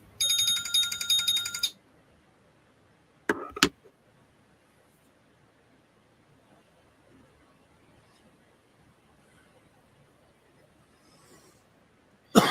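A mobile phone ringtone plays loudly for under two seconds, a bright repeating electronic tune. A couple of short clicks follow before a long stretch of near silence.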